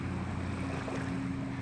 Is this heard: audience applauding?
no